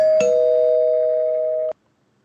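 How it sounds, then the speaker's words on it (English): A single bright bell-like ding used as a spoiler warning sound effect, a clear sustained tone ringing for about a second and a half before cutting off abruptly, heard alone with no talk. "So I'm going to just hit the spoiler bell and not go too much into detail here."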